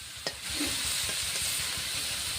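Small shrimp fry in a pan with salt and turmeric, giving a steady close sizzle with a few scraping stirs.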